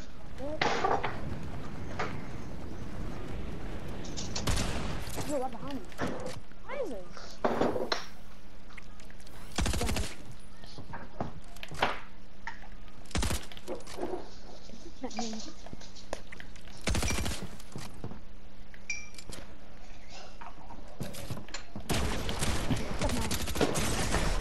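Pump shotgun blasts in the Fortnite video game ring out as sharp, loud, separated shots spread across the span, mixed with other gunfire and game effects while a player talks.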